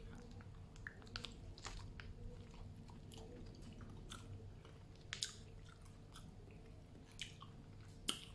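Close, quiet chewing of a mala-flavoured konjac noodle snack, soft wet crunches and bites repeating irregularly with a few sharper crisp snaps, no talking.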